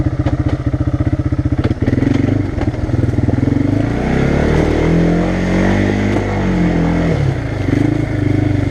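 A small four-wheeler ATV engine runs loud and close on a trail, with a chugging idle, a rev and sustained drone while riding, and clattering bumps throughout.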